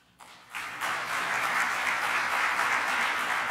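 A seated audience breaks into sustained applause closing out a five-minute lightning talk at a geography symposium, a steady dense wash of clapping that swells within the first second and holds evenly throughout.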